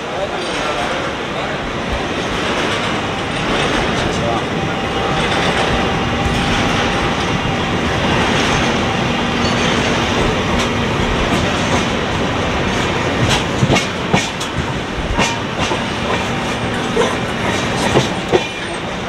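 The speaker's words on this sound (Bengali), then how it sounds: "এটা মালগাড়িটা দেখো" Loud, sustained roar of a freight train rushing past a moving passenger train, dense rattling clatter with a faint steady whine, and sharp wheel knocks growing more distinct toward the end; a voice speaks briefly.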